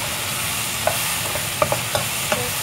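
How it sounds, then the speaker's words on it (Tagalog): Mushrooms and vegetables stir-fried in a pan, a constant sizzle broken by several sharp clacks of the utensil against the pan, close and fairly loud. "Kasi nga stir fry, diba?"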